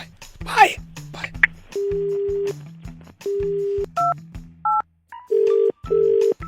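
Touch-tone telephone dialing a call: a series of steady DTMF beeps, some long and some short, with clear gaps between them, played over a low background murmur.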